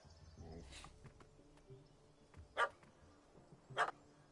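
Dog barks in The Witcher 3: Hearts of Stone, two sharp close barks standing out over quiet game ambience after some low murmuring early on.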